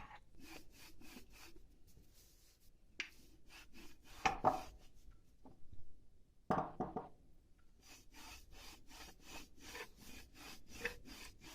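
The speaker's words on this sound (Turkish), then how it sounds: "Hamurumuzu şimdi güzelce azıcık un serpiştirerek güzelce merdane ile açıyoruz." A rolling pin rolls pizza dough on a floured wooden surface in quiet, steady back-and-forth strokes, with a couple of louder knocks.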